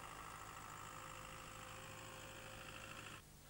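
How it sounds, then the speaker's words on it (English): A tractor pulling a half-filled mist blower sprayer in an orchard at 500 RPM gives a steady, loud engine and fan drone that holds throughout and then drops abruptly near the end. "We time how long it takes to drive the distance at 500 RPM with the sprayer half filled."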